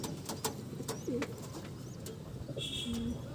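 A small, light-bodied female pigeon with slightly damaged plumage from a Howrah loft coos softly nearby, with a few faint, brief coos and chirps over a quiet room background.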